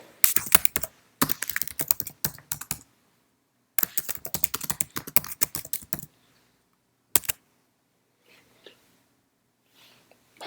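Someone types an email on a computer keyboard in quick bursts of close, crisp keystrokes, separated by short pauses, with a few isolated taps near the end and no voices.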